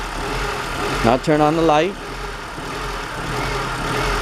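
A Honda Civic engine idles nearby with a low steady hum whose rise and fall is hard to make out, while a person speaks briefly over it.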